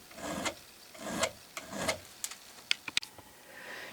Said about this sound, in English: Well, I'm going to file this.